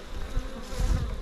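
Low buzzing of honey bees in an opened, long-abandoned hive hums steadily through the short clip, swelling slightly toward the end, close by with no talking.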